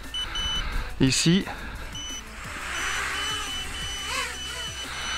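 Short, high electronic beeps sound intermittently from a Furibee Drakmax drone's flight controller, with a person speaking over them and a low hum underneath.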